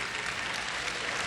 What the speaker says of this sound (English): applause there for Lynn Poyer as the whole bench is standing up